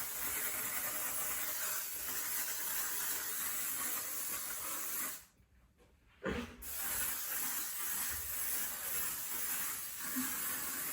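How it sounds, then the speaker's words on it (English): Hairspray sprayed onto hair from a can during styling, a long steady hiss that cuts off, then a short follow-up burst, heard up close and fairly quiet. "So then what you want to do is add hairspray."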